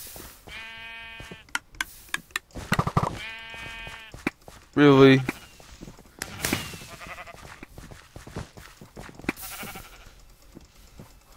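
Sheep bleat in short repeated calls in the Minecraft server Mineplex, a burst of game sound effects between them, while a voice briefly speaks.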